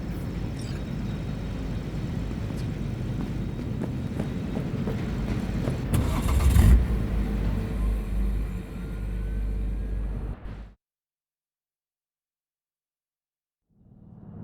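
A car driving in Cyberpunk 2077 keeps up a steady engine rumble and road hum with a louder surge partway through. It then cuts to silence before returning faintly.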